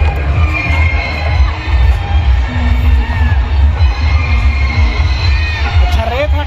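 A large crowd at an outdoor picnic where people are cooking, a dense murmur of many voices with occasional shouts, close and loud, while someone talks near the microphone.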